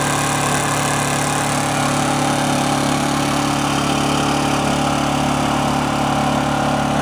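A Honda generator engine running in good condition, a loud, steady, even drone with no knocking, heard close up and alone for several seconds.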